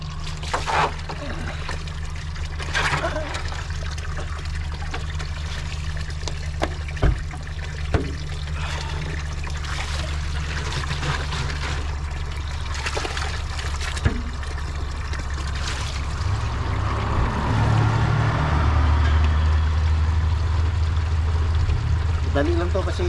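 Cold spring water pours and trickles steadily into containers as people fetch water at an outdoor spring, a continuous splashing rush with voices talking over it.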